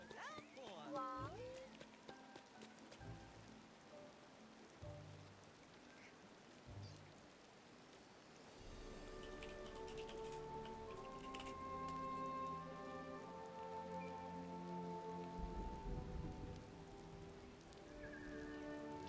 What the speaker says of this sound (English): Now that's a proper downpour.